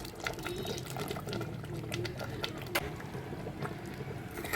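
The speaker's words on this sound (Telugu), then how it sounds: "చిన్న కప్పు పాలు పోస్తున్నానండి" Milk poured from a small cup into a pot of simmering chicken haleem, a steady liquid splash and trickle running throughout, close and fairly loud over the low bubbling of the pot.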